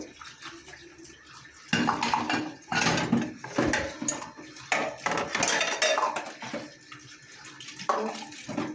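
Dishes, pots and cutlery being washed in a home kitchen sink, with repeated clinks and clatters of metal and crockery over running water, fairly close and steady, with no voices.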